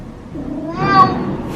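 A person imitates a cat's meow, a single drawn-out, rising and falling vocal meow heard close and clear over a quiet room background.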